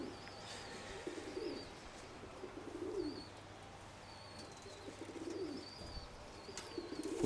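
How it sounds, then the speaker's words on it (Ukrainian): Soft, low pigeon coos recur every couple of seconds near a dovecote, fairly faint and distant, with higher chirps and light ambient noise around them. "гуляють голуби, гуляють."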